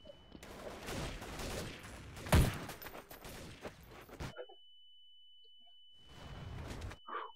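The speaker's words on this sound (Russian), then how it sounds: "тут гранат обстрел!" Rapid bursts of grenade blasts and gunfire in Counter-Strike: Source, loud and dense with one heavy close boom, then a sudden silence before the barrage resumes briefly.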